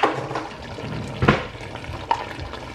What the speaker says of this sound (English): I'm going to add 1 cup of water into the